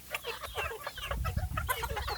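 Hens on a small desi chicken farm of about a hundred birds cluck steadily in a busy, overlapping chorus, close and fairly loud, with no talking.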